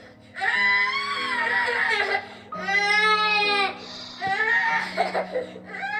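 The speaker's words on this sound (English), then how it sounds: "I hate hearing him cry" Infant crying in the video game That Dragon, Cancer, loud repeated wailing bursts with gasping breaks between them, close and upset, with a voice briefly underneath.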